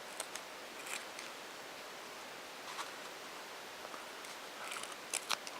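Scissors trim the foam insert for an RC tire on a Rulux wheel, making a few quiet, sporadic snips and light rustles over a steady hiss of background noise.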